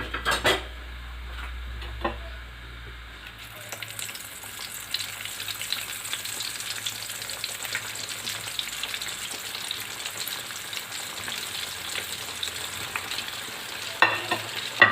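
Homemade McDonald's-style chicken nuggets fry in hot oil, a soft continuous crackle with scattered clinks of utensil against pan, a sharp burst at the start and end, no voices.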